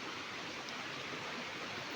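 The lower section of Erawan waterfall gives off a steady, even roar of falling and rushing water, constant broadband noise heard at some distance with no voices.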